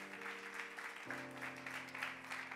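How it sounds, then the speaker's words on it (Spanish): Church congregation applauding during a Spanish-language service in New York, a steady broadband patter of claps running throughout with sustained musical tones, likely keyboard, underneath. "Dele un aplauso bien fuerte."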